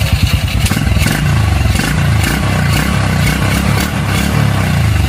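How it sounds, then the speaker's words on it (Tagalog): A motorcycle engine with an open carburetor runs loud and close, its exhaust rising and falling in rhythmic revs as the throttle is worked. "Kita mo yung output ng tambutso, sumasabay na sa throttle."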